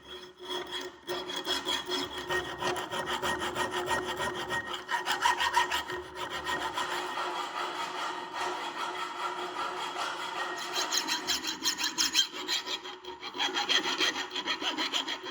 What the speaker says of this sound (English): I'm doing some more surface grinding on the flats.